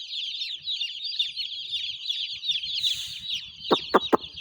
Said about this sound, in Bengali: আজকে মাত্র একদিন বয়স মুরগির আজকে সকালবেলা মুরগি বাচ্চা আছে